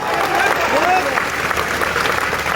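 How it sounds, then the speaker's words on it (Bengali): An audience at a political speech event about Madhabpur and Chunarughat applauds. Dense, steady clapping fills the hall, with voices mixed in beneath it. "ওনার জন্য একটা হাততালি আমি আশা করি"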